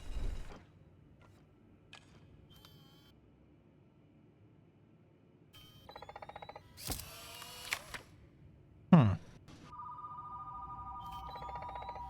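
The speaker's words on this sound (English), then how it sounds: "Of course, it's the phone." A telephone rings in the video game Paragnosia Museum, a steady electronic trill near the end, after sparse clicks, creaks and mechanical clatter in an otherwise quiet space.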